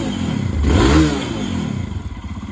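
A Lifan KPX 250 fuel-injected enduro motorcycle with a stalling fault at idle and under quick acceleration, giving one short close rev that swells and falls back to a rough, uneven idle.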